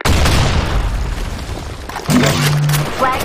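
A grenade explodes in a capture-the-flag video game match, a loud close boom with a rumbling tail followed by a second burst and short tonal game effects.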